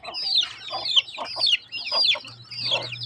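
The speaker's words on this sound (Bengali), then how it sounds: "আমি এসে বলে আমার পাশে মুরগি সব দাঁড়ায় রয়েছে।" Several chickens cluck and call close by on a cold day, with short, irregular bursts over a steady low hum.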